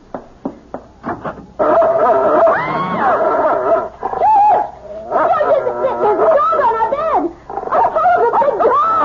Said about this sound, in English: It's only a dog, for Pete's sake.